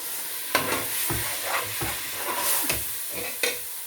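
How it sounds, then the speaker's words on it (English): A tin of tomatoes is stirred into a slow-cooked lamb masala curry, a spoon scraping the pot in several separate strokes over a faint sizzle, close and clear with no talking. "Give it a quick stir."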